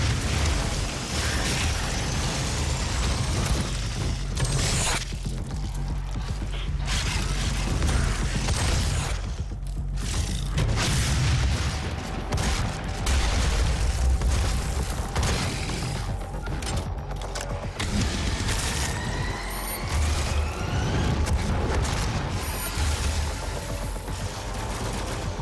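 Sustained gunfire in Doom, loud and relentless, with rapid shots and heavy mechanical clatter running unbroken throughout, mixed with occasional explosive bursts and no talk.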